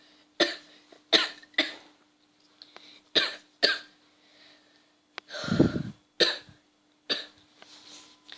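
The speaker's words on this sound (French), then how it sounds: "Excusez-moi, je tousse un peu." Someone nearby coughs repeatedly, with roughly ten short, sharp coughs spaced irregularly and brief quiet gaps between them.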